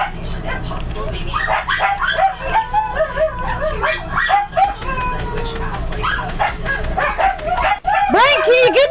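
Several dogs in a home bark, yip, whimper and howl almost nonstop, loud and close, while a person talks over them during an online game.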